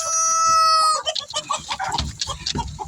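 Chickens being moved: a rooster's sustained crow gives way to a flurry of agitated clucks and squawks, close and loud, overlapping in quick bursts.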